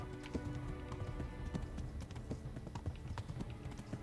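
Horse galloping in Kingdom Come: Deliverance, a quiet, rhythmic run of hoofbeats that continues steadily, with no voices over it.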